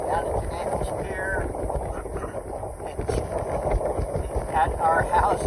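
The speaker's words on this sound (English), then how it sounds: "Whoa, it's windy." Strong gusty wind of about 25 miles an hour buffets the microphone on a Connecticut vacation, a loud, steady roar throughout.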